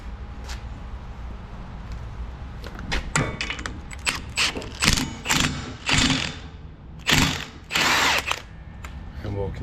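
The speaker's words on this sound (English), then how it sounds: "we have this stud puller" A stud puller drives wheel studs into the hub of a Polaris RZR Pro, short bursts of whirring power-tool ratcheting that stop and start several times, close up over a low background hum.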